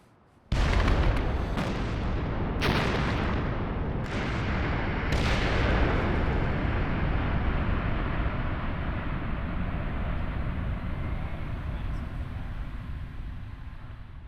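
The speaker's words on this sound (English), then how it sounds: "We shoot rock every day." Limestone quarry rock blast: a sudden heavy detonation followed by several sharp cracks in quick succession, then a long, loud rumbling roar of falling rock that fills the rest of the stretch.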